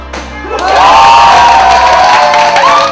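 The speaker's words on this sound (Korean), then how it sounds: "모든 학부모님들은 환호성을 지르며 축하의 박수를 아끼지 않았다." Parents watching a children's taekwondo board-breaking test burst into loud cheering and shouting with applause, a sudden swelling roar that holds strong to the end.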